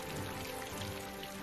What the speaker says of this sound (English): As this melted ice water evaporated, it swelled the atmosphere with moisture, creating torrential rainfall